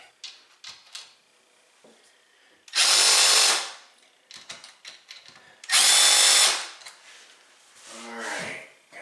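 A power drill or driver tightens the bolts on a new American Standard toilet, with two loud, sustained whirring bursts of about a second each. Quieter handling clatter and small clicks fall between and after them.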